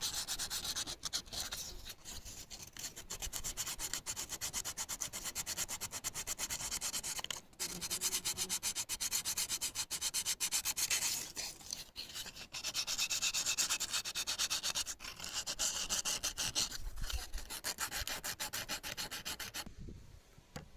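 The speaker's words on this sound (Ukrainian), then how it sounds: "Потім добре зашліфую, вирівнюю поверхню." Steady abrasive sanding rubs back and forth across a carved wooden icon, continuous and close, with a few brief pauses.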